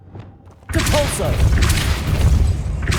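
Depulso force spell blasting in Hogwarts Legacy: a sudden loud boom with a crashing, rumbling burst that sustains for a couple of seconds after a quieter lead-in.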